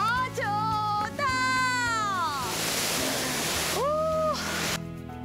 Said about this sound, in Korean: 사실 이 폭포는 신계리 사람들만 아는 비밀 폭포라고 합니다.